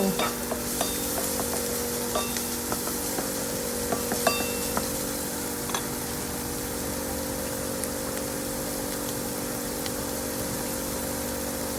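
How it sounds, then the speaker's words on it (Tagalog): Shrimp and vegetables sauté together in a hot pan, a dense steady sizzle with scattered spatula taps and scrapes from stirring, close up and without talk. "And then we saute all together."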